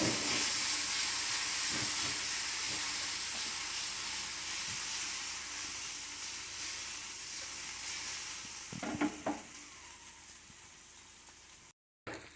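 Cluster beans (goruchikkudu) frying in a pan give a steady, close sizzling hiss that runs throughout, fading slightly, with a few soft clicks of stirring near the end.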